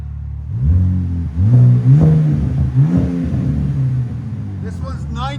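A 2025 RAM RHO's 3.0L Hurricane inline-six with Vibrant 1795 exhaust blips twice from idle, deep loud revs close by settling back into a rumbling idle, with a voice speaking briefly at the end.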